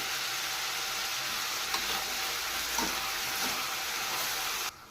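Vegetables for restaurant-style fried rice fry with salt in a pan, giving a steady loud sizzle close by with faint stirring scrapes, and no talking until the sound cuts off near the end.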